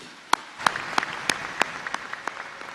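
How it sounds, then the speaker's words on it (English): Sparse, distinct claps ring out at a climate leadership award ceremony, starting as a handful of sharp, evenly spaced slaps and thickening into lighter scattered clapping. "A round of applause, please."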